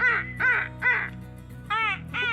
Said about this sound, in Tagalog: May ibon. May ibon.